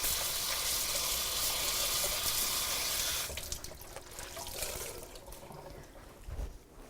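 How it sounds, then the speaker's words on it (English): Hands rinsed under a running kitchen tap: a steady, hissing stream of water for about three seconds, then it cuts off, leaving faint drips and small handling noises. "Let me rinse my hands."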